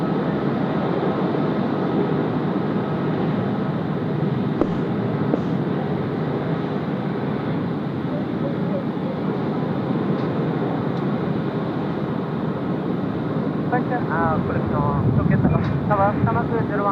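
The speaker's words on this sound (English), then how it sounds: "Now Dreamliner to start rolling 16 right as well." A Boeing 787 Dreamliner begins its takeoff roll on runway 16R, a distant continuous jet roar with wind buffeting the microphone, while people talk over it throughout.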